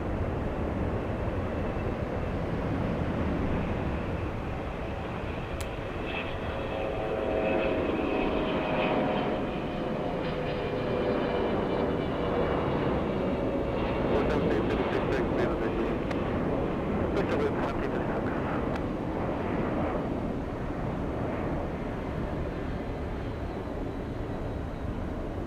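Jet airliners on final approach to runway 8 right at Atlanta Hartsfield-Jackson airport, a broad engine roar that rises and fades as planes pass, steady and moderately loud, with faint talk.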